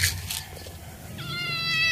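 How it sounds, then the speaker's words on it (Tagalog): A pet cat meows once, clear and fairly close, in a short rising-then-falling call near the end, over faint background hum with no talking. "Galit yung pusa."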